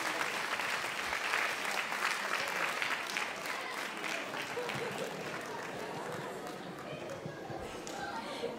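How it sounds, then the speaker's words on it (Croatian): An audience at a kindergarten's birthday celebration show gives loud, sustained applause for the young children and their guests. The thick, even clapping fills the room throughout, with a faint crowd murmur beneath it. "Veliki pljesak za Sovice i njihove goste."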